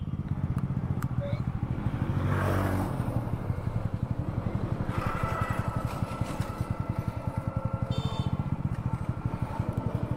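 A modified motorcycle engine pulses in a rapid, steady beat close by as the bike rides away, with a person talking over it.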